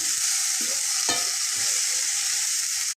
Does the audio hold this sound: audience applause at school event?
no